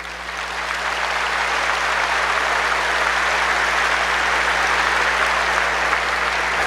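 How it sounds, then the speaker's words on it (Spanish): Steady, dense audience applause fills a church gathering before a Christian debate between pastors and a priest, swelling in the first second and then holding loud and even to the end, with no voices over it. "Aplausos para el hermano."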